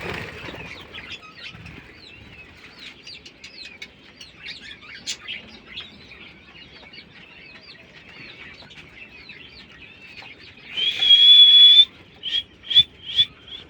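Budgerigars in an aviary keep up a constant mesh of thin chirps and chatter. Near the end come a loud, close burst of wing flapping and a few sharper calls.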